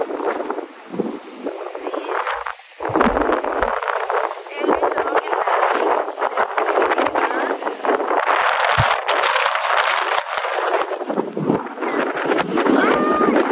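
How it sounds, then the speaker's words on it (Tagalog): Strong wind buffets the microphone on a rocky shore, a loud, continuous roar with gusty surges, while a person talks over it. "Ang lakas ng hangin"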